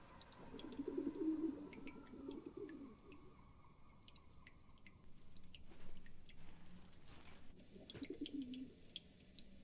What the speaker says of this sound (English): talking to a bloody pigeon